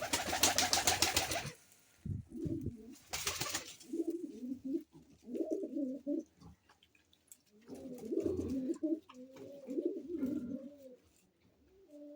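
Pigeons cooing up close in repeated soft, throaty bursts, with a few loud rustling flutters of wings near the start.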